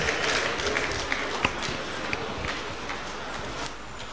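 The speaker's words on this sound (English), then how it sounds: "Can we please give them a round of applause?" An audience at a university distinguished lecture at Akwa Ibom State University applauds the Department of Performing Arts, a dense, steady clatter of many hands with a few sharper claps close by, slowly thinning.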